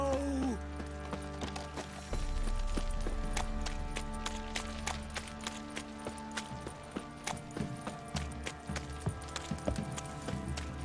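Horses in The Witcher 3 video game clop along in an uneven rhythm of hoofbeats, growing more distinct and busier toward the end over a low game background.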